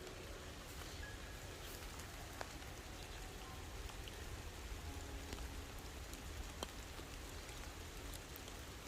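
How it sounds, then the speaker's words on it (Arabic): Soft, steady rain falls over a small vegetable garden planted with onions, lettuce and carrots, a faint even patter with occasional louder drops and no talking. "طبعا اليوم تمطر على عينكم"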